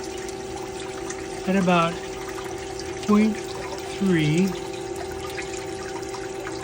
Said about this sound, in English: Turn on the funnel water so that it's creating a flow.